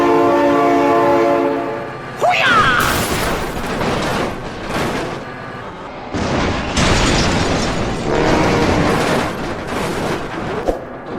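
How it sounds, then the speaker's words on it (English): A train in the BeamNG driving game sounds a long, loud horn blast, then thunders past with heavy rumbling and crashing impacts for several seconds, and a voice shouts briefly. "Oh my god, train!"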